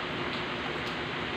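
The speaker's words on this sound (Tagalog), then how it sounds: "So ngayong ang month ng May or mag-June is maulan na pala talaga." Steady rain pours down on a cool, wet morning, a dense and continuous hiss of drops on surfaces that stays even and close from start to finish with no voices.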